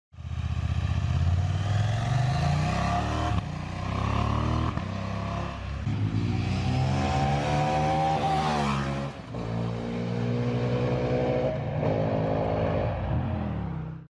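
A KTM 790 Adventure motorcycle rides along, its engine droning and revving loudly through several gear changes over about fourteen seconds, with no talk.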